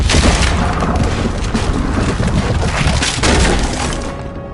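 A cannon fires in the video game Red Dead Redemption 2, a loud, close, sustained boom with crumbling, shattering debris that rolls on for several seconds.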